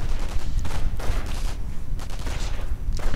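MG42 machine gun in a World War II strategy video game, rattling out dense, continuous bursts of automatic fire mixed with other gunfire and explosions, loud and busy throughout.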